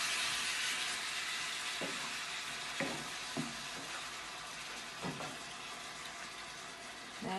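Two tins of tomatoes being stirred into a hot pan of lasagne sauce, a steady broadband sizzle with several soft scraping knocks from the spoon, no talking.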